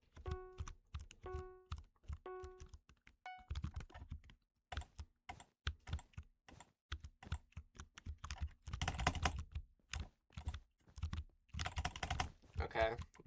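Keys on a new computer keyboard clack in quick irregular bursts, fast clusters of close, crisp taps separated by short pauses, with a few thumps of heavier strokes.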